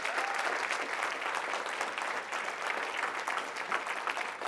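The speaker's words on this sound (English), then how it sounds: "Let's give them a round of applause." An audience at a nurses' union coordinators meeting breaks into steady applause, a dense, even patter of clapping hands that carries on for several seconds at moderate volume.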